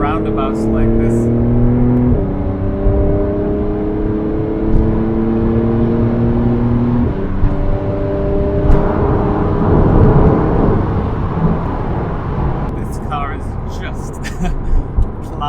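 Porsche 992 driving through a roundabout, a steady close engine drone with shifting tones as it rises and eases off, heard from inside with road roar, with a voice talking over it.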